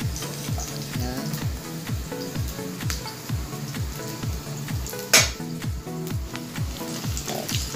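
Garlic stir-fried in a pan for chop suey gives a steady, close sizzle with light stirring, partly under rhythmic background music.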